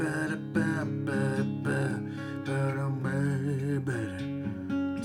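Acoustic guitar plays the chords of a song starting from D, close and moderately loud, with repeated strummed chord hits and sustained ringing between changes.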